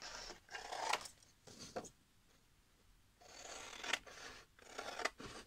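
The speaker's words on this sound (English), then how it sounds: "So I have cut this one from that other image" Scissors snipping a picture out of paper for a Valentine's letter box craft, with close crisp cuts in two clusters separated by a brief pause.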